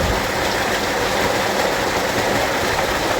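A 3hp solar-powered water pump discharging water outdoors, heard as a dense, continuous rushing roar at close range, loud and steady for the whole stretch with no voices.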